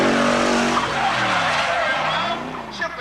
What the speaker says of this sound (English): Shift the car and proceed down the track with reverse spins.